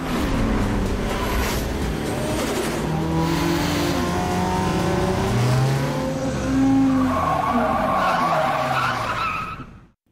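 Street-racing cars from a film, one of them pink, rev hard and skid with squealing tires, the engine pitch sweeping up and down in loud, close passes before cutting off abruptly.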